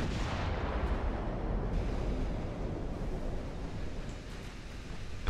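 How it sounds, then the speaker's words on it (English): 5-inch secondary guns fire during a naval battle in Ultimate Admiral: Dreadnoughts, heard as a continuous heavy booming roar with no distinct gaps between shots. "We'll start using the 5-inch guns on the light cruiser."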